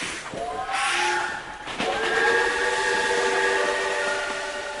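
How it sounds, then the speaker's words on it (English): A Khyber Safari train runs through the rugged mountains of the Khyber Pass. Its whistle sounds a sustained, fairly distant blast, cut briefly and then held again over a low rumble. "the Khyber Safari train runs through the rugged mountains of the Khyber Pass"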